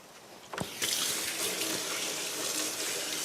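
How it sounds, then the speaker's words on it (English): Batter-coated chicken sizzles and bubbles in hot oil on the hot part of an outdoor grill, a steady dense hiss that begins abruptly after a short clatter and stays loud and even. "See how it's starting to really bubble up?"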